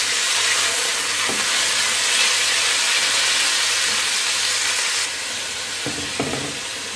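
Chicken frying in a hot pan for hot and sour soup gives a loud, steady broadband sizzle, with a few stirring knocks near the start and end and a slight drop in intensity partway through.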